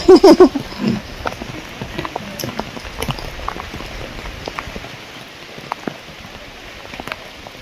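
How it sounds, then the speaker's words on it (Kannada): A small waterfall flows on a rainy walk to the Yana caves, a steady, fairly faint rush of water with scattered droplet-like ticks and a short, louder burst at the very start. "ನೀರು ಹರಿತೈತೆ ಇಲ್ಲೋಡ"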